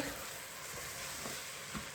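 Quiet, steady sizzling of boiled daal mash (urad lentils) in a pan, with a few soft scraping stirs breaking the hiss.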